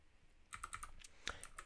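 A short run of crisp keystrokes on a new computer keyboard, several quick taps and one firmer press, close and quiet.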